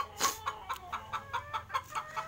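A laying hen clucks in a quick run of about nine sharp, evenly spaced calls, fairly close and lively, with no other sounds around.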